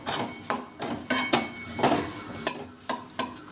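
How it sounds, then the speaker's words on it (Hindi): Oats being roasted in a kadhai and stirred with a utensil, giving a run of close scraping strokes and light metallic clinks in an uneven rhythm. "कढ़ाई गर्म होने पर हम इन ओट्स को डालेंगे। इसको हमें रोस्ट करना है"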